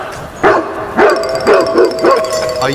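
A dog barks close by, five loud, evenly spaced barks within about two seconds, with no other sound over it.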